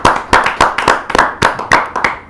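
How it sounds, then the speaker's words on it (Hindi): An audience claps at a kavi sammelan poetry show, a short burst of loud, close hand claps in an uneven rhythm with no voices over it. "एक बार पुनः जोरदार ताली के साथ हम स्वागत करें सभी का।"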